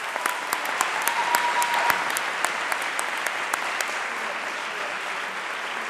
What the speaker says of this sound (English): We have one more round of applause for them